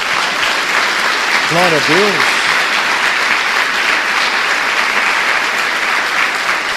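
Sustained, loud applause from a large church congregation fills the whole stretch, with a short spoken exclamation in Portuguese rising over it near the start.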